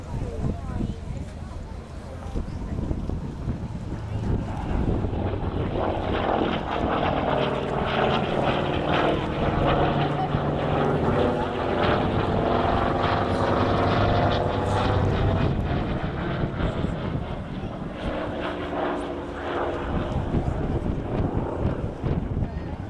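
Hawker Sea Fury with its big radial engine and five-bladed, 12-foot propeller at an airshow, a loud, sustained throbbing roar with a deep rumble and some wind buffeting on the microphone, with no voices over it.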